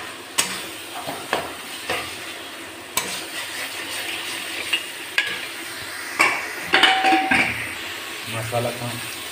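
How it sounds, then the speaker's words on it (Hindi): Masala frying in a pan while being stirred, a steady low sizzle broken by scraping spoon strokes and a few pan knocks, with faint voice in the background. "मसाला भून रहे हैं, देखिए चिपक रहा है।"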